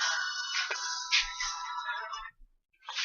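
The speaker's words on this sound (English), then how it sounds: "That's my ringtone now." A phone ringtone plays a bright electronic melody loud and alone, its tune running for a couple of seconds before stopping briefly and starting up again.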